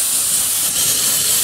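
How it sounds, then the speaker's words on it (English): Compressed air hisses steadily out of nearby inground sprinkler heads during winterizing, a loud, bright rushing spray that carries on without pause. "Now we're going to start hearing air."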